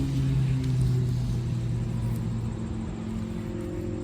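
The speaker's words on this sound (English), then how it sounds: "Sorry for the traffic noise." Steady outdoor traffic rumble beside a garden spot, a low continuous road drone with passing vehicle hum, moderately loud and unbroken throughout.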